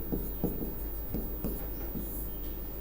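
Chalk or marker strokes writing words on a board during a Hindi language lesson, a few soft scratchy strokes at close range over a steady low hum.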